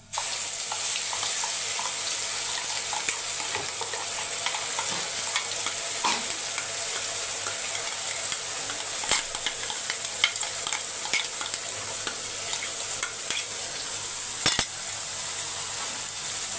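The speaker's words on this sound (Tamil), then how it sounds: "சிம் பண்ணிவிட்டு அரைச்ச விழுதை சேர்த்துக்கலாம்" Ground paste sizzles as it fries in a pan for mushroom gravy, stirred with light intermittent scrapes over a continuous hiss, close and steady, with a sharper clatter near the end.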